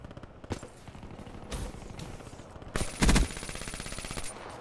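Gunfire in a first-person shooter match comes as scattered sharp shots and a louder burst near the middle, with a steady background game hum and no talking.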